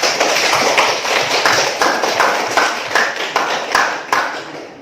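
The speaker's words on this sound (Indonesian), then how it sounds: "aplaus untuk kita semua" A class of students applauds together in a school lesson, a dense run of overlapping hand claps with repeated swells, fairly close and steady throughout.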